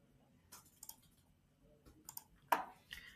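A few quiet, sparse mouse clicks land at irregular intervals on a computer running sales tracker software, with one sharper click standing out near the end.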